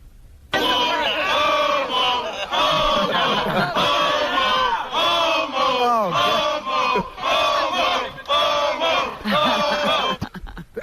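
Rowdy crowd at a radio show event jeering and heckling, loud chanting and shouting voices rising and falling in repeated bursts for about ten seconds.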